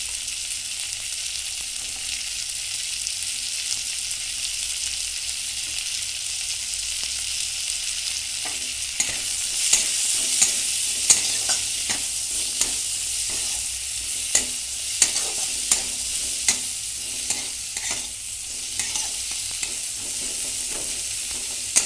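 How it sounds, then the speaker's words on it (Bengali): Chopped onions sizzle in butter in a pan, a steady hiss of frying overlaid by repeated scraping and tapping as a utensil stirs them, growing more active partway through. "দিচ্ছি পেঁয়াজ কুচি"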